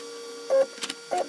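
A Lotmaxx SC-10 Shark dual-color 3D printer with laser engraver moves during bed leveling, giving three short whirring stepper-motor bursts with pitched tones over a faint steady hum.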